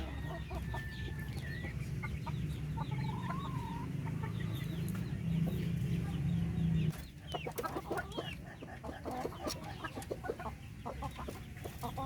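Hens kept on a Filipino backyard setup cluck steadily in short repeated calls, nearby and fairly loud, with a steady low hum underneath for the first half and busier, scattered clucks afterward.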